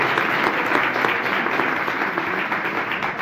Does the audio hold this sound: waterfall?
no